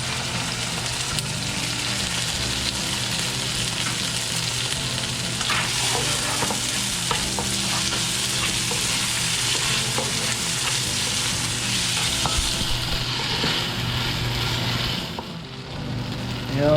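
Tomato paste sizzles and fries in a pan for a grouper stew, with scraping stir strokes throughout, steady and close, with no talking.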